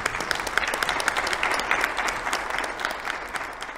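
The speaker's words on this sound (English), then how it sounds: "That deserves a round of applause." Dense applause from a large crowd at a high school graduation ceremony, a continuous wash of many hands clapping at a steady level, somewhat distant.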